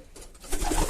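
A healthy pair of young pigeons in a loft give soft cooing calls, growing louder in the second half, close by and with no talking.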